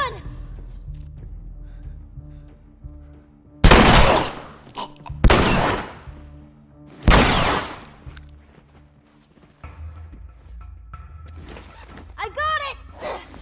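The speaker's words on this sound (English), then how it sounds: "Shotgun!" Shotgun blasts in The Last of Us Remastered, three loud booming shots spaced a second or two apart amid quieter game ambience, with a voice speaking faintly around them.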